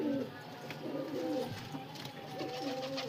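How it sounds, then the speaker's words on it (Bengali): Domestic pigeons from a home loft coo in repeated low, throaty phrases close by, with soft rustling between calls. "পেটিয়া ঘরের পায়রা"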